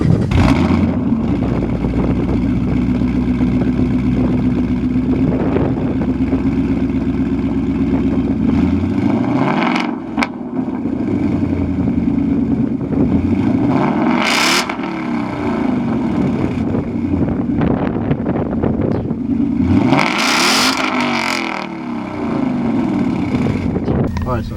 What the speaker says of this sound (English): let me go ahead and give you guys a short clip of how the exhaust sound